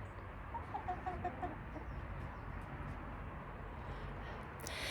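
Backyard chickens cluck softly in a garden, a short run of quiet clucks early on over faint outdoor ambience, with no voices.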